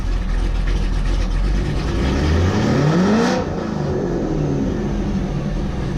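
A Corvette V8 fitted with a bigger throttle body revs up, pitch sweeping upward to a peak before dropping back toward a lower rumbling idle, loud and close, no talking.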